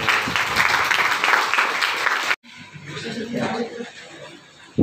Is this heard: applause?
yes